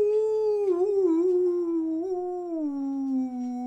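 A voice imitates a dog's sad little howl with a long, wavering, mournful tone that slowly sinks in pitch. It sounds close and steady, with no other sound around it.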